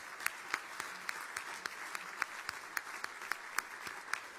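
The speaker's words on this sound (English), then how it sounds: "How about a nice round of applause for that?" Banquet audience applauding at a Catholic fundraising dinner, a fairly quiet, distant wash of clapping with individual nearby hand claps popping out in an irregular rhythm.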